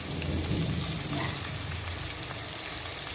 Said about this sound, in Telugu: వర్షం అండి, తోటలోకి వెళ్ళలేము, విపరీతమైన వర్షం.